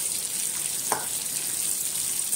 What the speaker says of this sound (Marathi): अशा प्रकारे मी सर्व मच्छी फ्राय करून घेते।